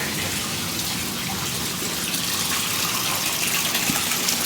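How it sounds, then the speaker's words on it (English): Water sprays from a marine hose over a hand, a continuous, fairly loud hiss and splash that holds steady throughout with no talking. "I will spray the hose over my hand"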